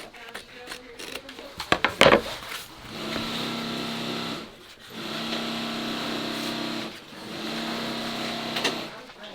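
After some clattering handling noises, a fully automatic sewing machine hums through two or three runs of stitching on pistol magazine pouches with a short pause between them, close by.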